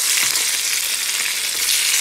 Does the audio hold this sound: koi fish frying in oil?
yes